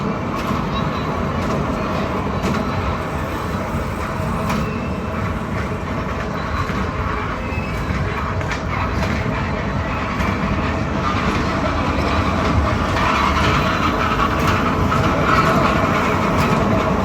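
A lit-up children's ride train runs at Chaupati in Surat, its steady rumbling and clatter filling the scene with constant crowd noise and voices throughout.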